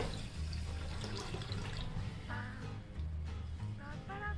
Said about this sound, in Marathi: यामध्ये मी आता पाणी घालते।